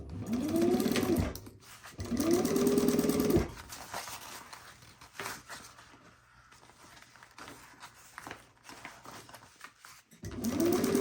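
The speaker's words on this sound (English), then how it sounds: "start stitching right here again at 3/8 of an inch" A sewing machine stitches a zip pouch at a 3/8 inch seam allowance in two loud, steady bursts of stitching with a pause between, then a quieter stretch of handling before a final burst begins.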